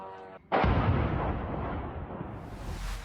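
A heavy explosion booms at a bombed factory, recorded by local residents, its deep rumble rolling on and fading slowly after the sudden blast.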